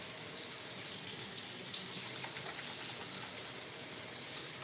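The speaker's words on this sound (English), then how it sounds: "I'm gonna have to wait a minute or 2 just because I gotta rinse my hands off" Tap water pours steadily into a sink while hands are rinsed, a close, continuous hiss and splash with no voices.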